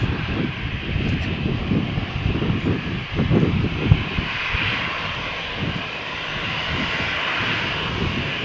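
Iberia Express airliner engines roar steadily at takeoff power on a stormy morning at Malaga Airport, a loud broadband rumble with a fluttering low end and no voices.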